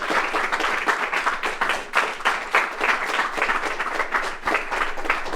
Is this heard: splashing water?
no